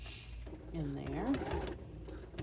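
Sewing machine running as it back tacks a few times on a replacement zipper in a pair of pants, a steady mechanical whir with shifting pitch, close up, with faint background noise.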